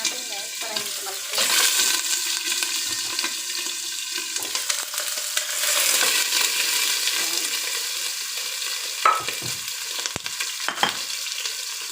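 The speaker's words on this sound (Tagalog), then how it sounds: "Prito na natin ang ating isda." Oil sizzles and crackles steadily as swordfish fries in a pan, with occasional louder pops and spatters.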